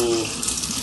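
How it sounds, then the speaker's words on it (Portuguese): Tap water running through an aerating flow reducer that mixes air into the stream: a steady, close, frothy hiss of water with no speech. "Então ele não fica só um fiozinho de água fraquinho, ele vem ar junto"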